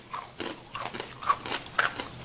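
Crisp bites into crunchy dried fruit, several sharp crackling crunches close to the mouth, irregularly spaced over a couple of seconds with quiet chewing between.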